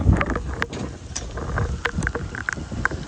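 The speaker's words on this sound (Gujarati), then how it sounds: "ફૂલ વરસાદ આવે રસ્તા ઉપર એકદમ જોવે કમોસમી વરસાદ" Heavy unseasonal summer rain with gusting wind on a road, a dense, steady wash of close, loud patter with scattered sharp splashes and low buffeting rumble, with no voices.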